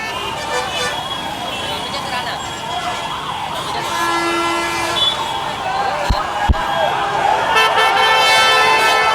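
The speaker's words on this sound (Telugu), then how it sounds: "అంబులెన్స్" An ambulance siren passes along a busy road beside a petrol station, its rising and falling wail carried over steady traffic rumble, with voices talking nearby.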